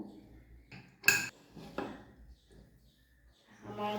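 A pressure cooker being opened in a home kitchen gives a few sharp metallic clanks and knocks of lid and pot, one loud clack standing out, between quiet pauses, with soft talking near the end.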